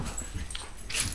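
Family dog whimpering in short, faint yips and whines at close range, a brief thin cry near the end.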